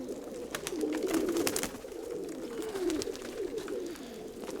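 Racing pigeons perched on an icy, glazed-over roost give low, continuous cooing at moderate distance, with a faint soft rustle behind the calls.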